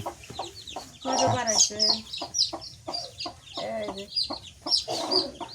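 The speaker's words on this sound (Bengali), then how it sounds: "হে বেরিয়েছে মুরগি বাচ্চা বেরিয়েছে" A hen clucks close by while newly hatched chicks peep in high, busy bursts, the calls coming in an uneven rhythm over several seconds.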